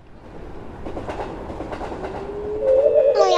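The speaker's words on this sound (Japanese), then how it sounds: "見慣れない電車が走ってる" An animated cartoon train rumbles past with rhythmic clatter, building in loudness, ending in a high whistle-like squeal.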